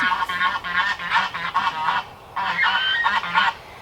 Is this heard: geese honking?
yes